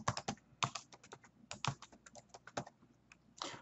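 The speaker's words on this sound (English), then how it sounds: "I'm going to type in the date right now and hit enter." Quick, crisp clicks of a computer keyboard as a date is typed into an Excel spreadsheet, a close, uneven burst of keystrokes ending in a slightly longer press, with no talking.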